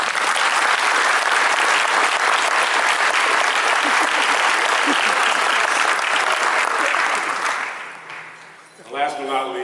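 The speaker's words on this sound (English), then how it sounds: "Can you give my mother a round of applause?" An audience at a 2018 Tennessee Sports Hall of Fame induction ceremony breaks into loud, sustained applause that fills the hall, then fades out near the end as a voice comes back in.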